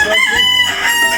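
A rooster crows once, loud and close, a single ringing call filling the moment.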